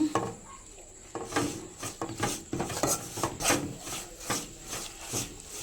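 A coconut laddu mixture of grated coconut and jaggery being stirred in a pan until syrupy, heard as steady, rhythmic scraping and rubbing of a spoon against the pan, close and continuous, with no speech.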